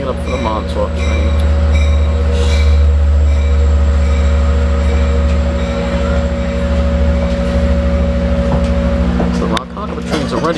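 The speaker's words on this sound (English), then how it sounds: "No, that's not stopping at the station. That's a Montauk train." A Long Island Rail Road Montauk train passing through a station without stopping, a loud sustained rumble of wheels and engine with a steady tonal whine, fading near the end as people talk.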